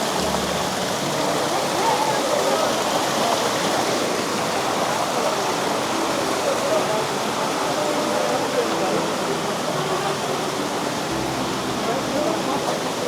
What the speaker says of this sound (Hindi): ये वो 108 गौमुख की धारा है।